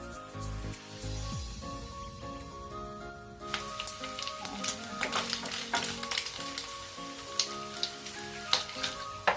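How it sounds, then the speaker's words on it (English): Thin-sliced pork frying in a pan until brown and crispy: a steady, close sizzle with scattered crackles and stirring clicks starts a few seconds in, after a stretch of quiet background music that carries on underneath. "Pan fry your thin sliced pork until it becomes brown and crispy."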